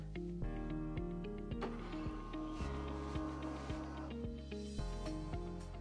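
An Epson EcoTank ET-3850 printer scanning a document gives off a steady mechanical hum with layered tonal whine and regular soft clicks and thumps as the scan head moves, fairly quiet and continuous.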